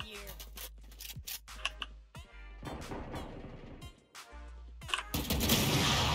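Rapid bursts of gunfire from a Valorant deathmatch, loud repeated shots with sharp cracks and brief pauses, dense and continuous through the stretch with no talking.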